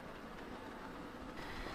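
An 00 gauge model train runs on a Southern Region layout at Havant, a steady soft rumble and whirr with faint clicking, low in level and continuous without any talking.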